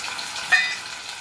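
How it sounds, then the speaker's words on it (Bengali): A spoon stirs sweet-sour chickpea curry (chole) seasoned with chilli and cumin powder in a hot pan, giving a brief, close sizzle with one soft scraping stir over steady frying hiss. "এখন এটাকে নাড়িয়ে দিচ্ছি।"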